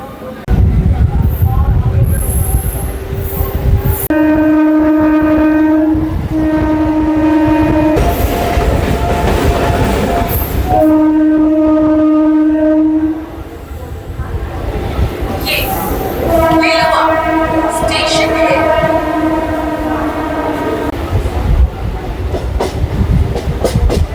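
A local passenger train running from Howrah to Tarakeswar, its loud horn sounding in repeated long blasts over steady rumbling wheels and carriage noise, with voices talking nearby in places.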